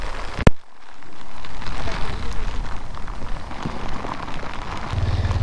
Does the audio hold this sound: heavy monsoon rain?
yes